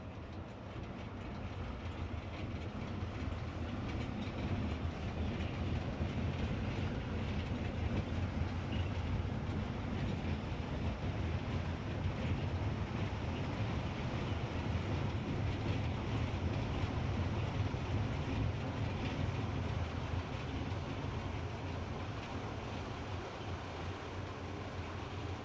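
A Kambly-liveried train in Train Simulator Classic enters the Gotthard tunnel, a steady, loud, dense rumble of wheels and rushing air that holds without a break throughout, with no talking.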